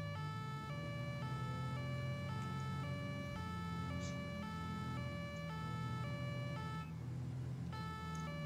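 A police car siren in the video game GTA 5 wails in a steady repeating two-tone pattern over engine rumble, loud and continuous throughout.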